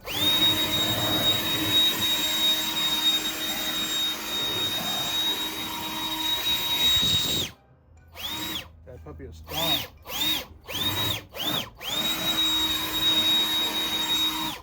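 A loud, high-pitched whine of a cordless blower blowing off a truck cooling-system part runs steadily, then cuts into several short on-off bursts, with a brief spoken remark.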